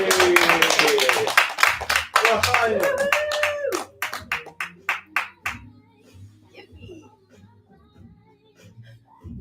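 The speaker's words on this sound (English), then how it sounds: "You guys can totally clap right now." Wedding guests clap after the couple is pronounced married, a loud burst of many hands with cheering voices that thins into scattered, slowing claps and fades to quiet.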